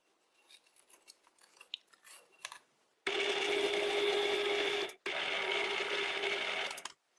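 A metal lathe tool bit is fed straight into aluminium stock, giving a loud, steady whirring cut with a strong mechanical hum that runs for several seconds, drops out briefly, then resumes. Quiet clicks and handling noises come before it, with no talk.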